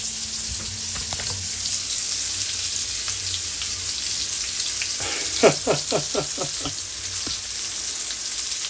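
Fish frying in a pan with a steady broadband sizzle throughout, joined midway by a quick run of sharp pops and spatters, near and fairly loud with no talk.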